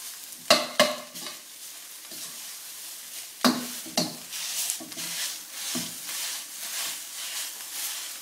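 Rice and salted, peppered egg stir-fried in a hot pan, browning slightly, with loud close metallic scrapes and clacks from the utensil at the start and mid-way over a steady sizzle.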